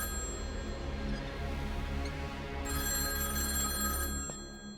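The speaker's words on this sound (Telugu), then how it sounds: "ఆ ఫోన్ నీకా నాకా?" A telephone bell rings continuously, with a sustained electronic trill that stays loud and steady throughout, with no voices.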